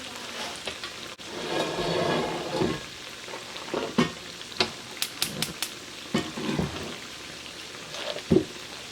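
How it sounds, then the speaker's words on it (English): Meat sizzling in a pan while making roast beef, an uneven crackling fry with occasional louder pops and scraping knocks as the pieces are moved around, close up. "They're frying too slow."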